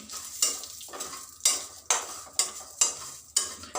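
Vermicelli roasting in ghee in a pan for shavige payasa, a close, bright sizzle broken by regular spatula scrapes roughly every half second, with no talking.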